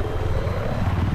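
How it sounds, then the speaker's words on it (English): A military helicopter in the shooter Battlefield 3 on the Kharg map, a loud continuous rotor chop and engine roar close by, dense and steady throughout. "Oh, chopper."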